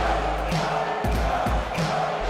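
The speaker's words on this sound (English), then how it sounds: "Wow, listen to that crowd noise." A wrestling arena crowd in London chanting for Samoa Joe, a dense roar with rhythmic chant pulses repeating about every half second, loud and steady throughout.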